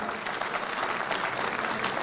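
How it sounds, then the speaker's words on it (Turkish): Crowd clapping for a scholarship donor at a Turkish village fundraising gathering, a dense, even patter of many hands that holds steady throughout. "Ömer Ayhan abimize alkış veriyoruz"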